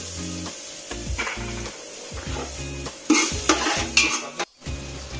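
Ginger garlic paste frying in a pan for prawn biryani gives a sputtering sizzle, interrupted by repeated rhythmic scrapes and clanks of a spoon stirring against the pan, close and fairly loud, without speech.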